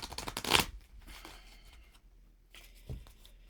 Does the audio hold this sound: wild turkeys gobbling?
no